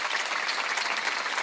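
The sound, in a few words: congregation applause in church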